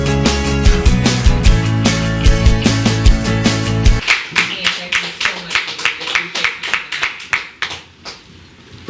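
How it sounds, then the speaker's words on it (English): Applause for Julie at a community conversation event: the first half is masked by music or loud tonal sound, then clear, rhythmic clapping from a small group carries on alone for several seconds, fading slightly toward the end. "Let's give Julie a round of applause."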